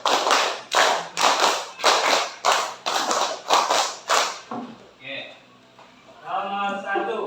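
A group of people clapping hands in unison in counted sets during a school coaching session, about ten sharp, evenly spaced claps in quick succession, then a pause and people talking.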